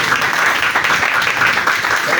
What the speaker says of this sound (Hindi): जोरदार तालियां भाई साहब